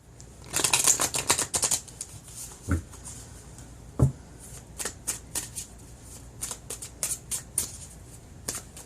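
Tarot cards are shuffled close up in quick riffling bursts, a dense flurry early on followed by scattered single snaps and flicks, with no speech.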